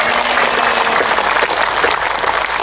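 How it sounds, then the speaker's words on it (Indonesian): Loud, dense clapping from an audience at an Islamic religious gathering in Sumursongo, Karas, Magetan, continuous and even throughout the short stretch with no voices on top. "Tepuk tangan."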